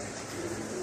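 Pigeons cooing among a flock of about 120 kept birds: a soft, low cooing note repeating briefly, faint over a steady background hum.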